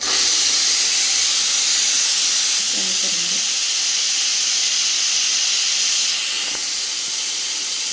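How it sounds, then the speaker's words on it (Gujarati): Steam hisses loudly out of a pressure cooker's release after an hour on the gas, one continuous, forceful rush of air that barely fades over its whole length. "હવે ગેસ આપણે બંધ કરીએ છીએ અને બધી હવા કુકરમાંથી કાઢી"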